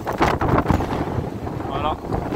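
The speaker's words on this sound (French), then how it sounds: "il y a beaucoup de vent" Strong gusts of wind buffet the microphone with loud rumbling bursts, steady and close throughout.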